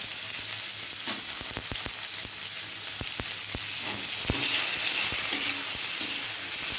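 A whole onion fries in oil in a pan, giving a steady close sizzle with scattered sharp crackles and pops, moderately loud and without talk.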